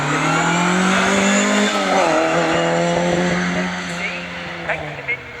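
A rally car climbs the hill climb course at Prescott with a loud, strained engine roar and brief tyre squeal. The note holds steady, then fades slightly toward the end as the car pulls away.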